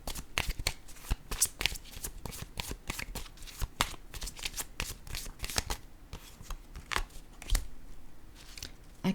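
A deck of oracle cards is shuffled by hand: rapid, crisp riffling flutters and papery slaps in quick bursts, close and fairly quiet, with no voices.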